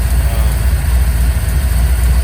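A hot Chevrolet Camaro engine idles at operating temperature, around 180 degrees, with a loud, steady, close low rumble that holds even throughout, and no voices.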